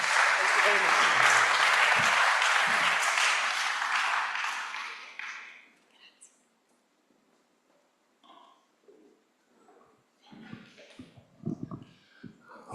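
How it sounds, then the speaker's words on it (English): A housing conference audience applauds its speakers loudly for several seconds, then the clapping fades out into quiet room noise with a few scattered bumps and murmurs. "a round of applause for our speakers"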